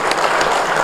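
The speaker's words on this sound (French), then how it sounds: "nous donner un bon applaudissement." Crowd applause at a political party campaign meeting, a dense, loud burst of clapping filling the short moment without pause.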